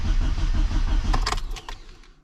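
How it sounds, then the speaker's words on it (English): A Classic Mini engine turns over and runs roughly as oil pressure builds, a close, loud mid-pitched churn that thins out and fades toward the end. "the engine note changes a little bit as it starts pumping the oil around the"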